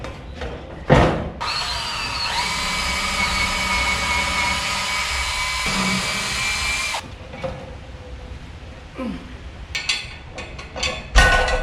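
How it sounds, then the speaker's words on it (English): Power drill boring holes through shelf boards for a post-rack shelf in a pole barn, a loud sustained whine of several seconds followed by shorter bursts and handling knocks, no talking. "I'm going to drill these left ones and then just put one lag screw in"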